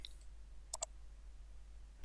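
A computer mouse gives a quick double click during a Paint drawing-program lesson: two crisp, faint clicks close together near the middle, with quiet room hiss around them and no talking.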